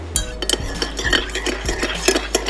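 A spoon stirs in a cup, tapping and clinking against the sides in quick repeated strokes, close by and with no voices.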